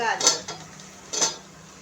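Diced potatoes being sautéed and stirred in a pan for white pulao, two distinct scrapes of a utensil against the pan with a faint sizzle between them, close up.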